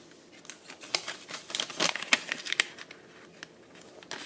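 Origami paper being folded and creased for a present box makes soft, crisp crackles and sharp little snaps, quiet and close, scattered irregularly with a denser cluster in the middle.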